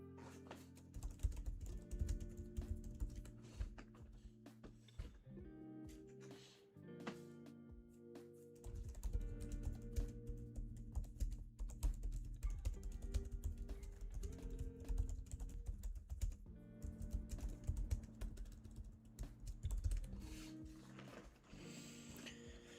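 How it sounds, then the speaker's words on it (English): Computer keyboard typing during a live day-trading session, a steady run of close clicks and key taps mixed with low background hum, with no talking. "Typing away."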